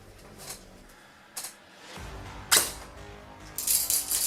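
A Cyma CM041J MP5 blue edition airsoft gun fires 0.32 BBs, a few sharp, quiet mechanical snaps spaced irregularly, with a short burst of clicks at the end.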